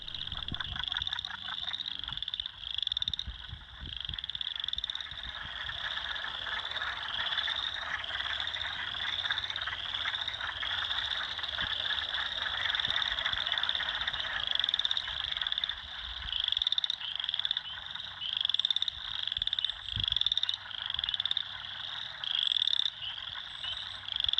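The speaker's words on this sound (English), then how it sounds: "A free concert put on by boreal chorus frogs, spring peepers, wood frogs, and more." Dense chorus of boreal chorus frogs, spring peepers and wood frogs calling in spring woods, with shrill repeated peeps and rapid trilling croaks overlapping continuously, loud and near throughout.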